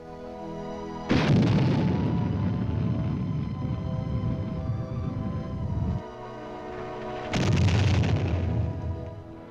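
Modern Army artillery and rockets such as the Lacrosse and Honest John go off in two loud, close blasts, each one followed by a long rolling roar and rumble that fades and then swells again.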